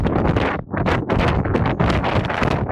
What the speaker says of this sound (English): it's a little breezy out here today